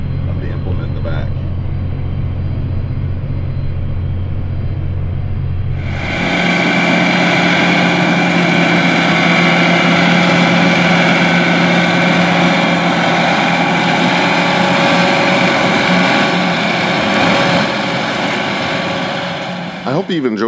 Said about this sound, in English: up in the cab of the John Deere 8370RT track tractor planting corn with the 24-row John Deere 1775 NT